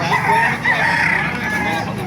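A rooster crows loudly and close by in a drawn-out call, with other chickens clucking around it at a chicken market in Baliuag.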